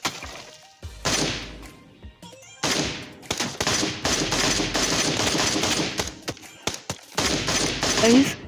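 Assault rifle gunfire in PUBG, with M4 and MK12 weapons in use: rapid bursts and strings of loud, sharp shots with brief gaps between volleys, close and punchy.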